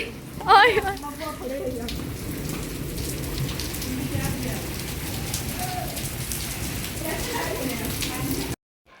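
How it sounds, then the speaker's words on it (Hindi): Steady heavy rain hisses across the whole stretch in a Pakistani village, a dense broadband downpour with a brief voice-like burst near the start before cutting out. "बारिश देखें जी एकदम कितनी शुरू हो गई है।"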